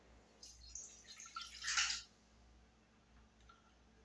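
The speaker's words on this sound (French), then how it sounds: "Et maintenant, on va rajouter 150 g d'eau." Water poured into a Thermomix bowl, a few short faint splashy trickles and drips in a quiet kitchen.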